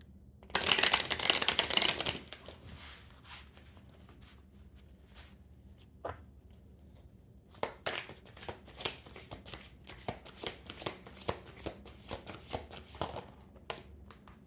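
Tarot cards shuffled by hand during a reading, a loud riffling burst at first, then a quiet pause, followed by a long run of soft, irregular flicks and taps as the deck is mixed, close and without talk.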